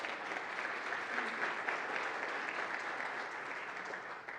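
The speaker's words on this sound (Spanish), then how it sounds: "un aplauso para mi amigo Julio Caminero," A conference hall audience applauds steadily for a banking superintendent's opening remarks at a banking conference, a dense sustained wash of clapping that fades slightly at the end.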